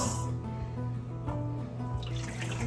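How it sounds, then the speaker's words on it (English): Hot water poured from a tap onto salt for a chicken brine, a steady running, splashing pour with a low hum beneath and a brighter gush near the end. "I have hot water because I want to do what I can to start dissolving the salt."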